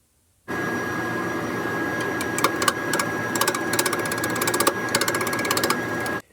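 A wood lathe turns the bottom of a white oak and walnut segmented bowl, giving a steady motor hum with a thin whine and rapid rhythmic tool chatter that grows denser toward the end.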